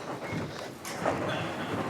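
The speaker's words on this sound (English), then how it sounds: "And now the train is opening its doors at stop number 2." A subway train rumbles and slows to a halt, a steady low roar with a brief higher squeal near the stop, no voices.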